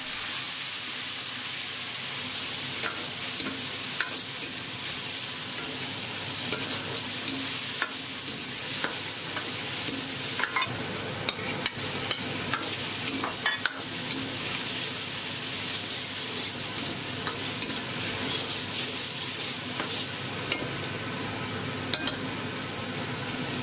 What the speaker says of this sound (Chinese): 热锅下油，加泡姜、泡椒、香花椒、郫县豆瓣炒香出味，下肥肠翻炒均匀